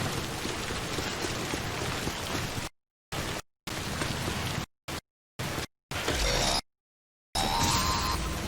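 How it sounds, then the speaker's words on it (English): Steady rain from the Death Stranding video game, the game's timefall, hisses as a dense, continuous downpour, broken by several abrupt silent gaps and ending in a brighter, harsher stretch of rainfall. "We've been getting near constant timefall in this region for a while now."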